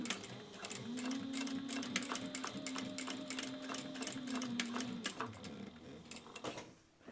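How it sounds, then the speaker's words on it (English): Sewing machine stitching elastic down the side seam of a fabric hands-free phone pocket, a steady close whirring run of needle strokes for about four seconds before slowing and stopping. "we're just going to sew down the side"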